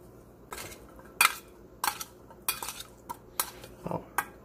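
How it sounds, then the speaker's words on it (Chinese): Blanched celtuce tossed with olive oil, salt and pepper in a bowl, heard as a series of short, close clinks and scrapes of utensils against dishware in an irregular rhythm, no voices. "让它稍微拌一下"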